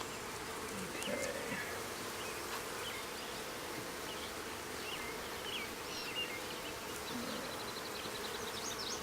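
Honey bees buzz around the center of a month-old hive, a continuous, soft, dense drone with a few individual bees flying close by, and no talking.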